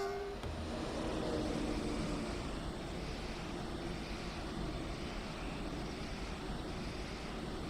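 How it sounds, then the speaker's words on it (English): Long 14-coach train on the Kinzigtalbahn between Frankfurt and Fulda in Train Sim World 5, rolling past as a steady, loud, broadband rumble that holds evenly throughout with no speech. "Yeah, quite a long train."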